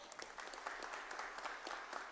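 Audience applause at a formal solemn session honouring people with rare diseases, a brief burst of steady, moderately distant clapping from a seated crowd.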